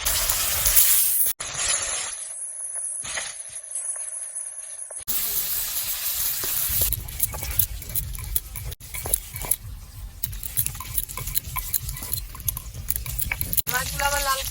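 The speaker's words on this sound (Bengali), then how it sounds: "আমি এবার মাছগুলো এক এক করে ছেড়ে দিচ্ছি।" Fish frying in oil in a wok: after a short quiet stretch, a loud dense sizzle and crackle that carries on steadily, with occasional sharper pops.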